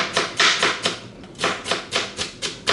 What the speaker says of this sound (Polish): Paprykę również kroimy drobniutko.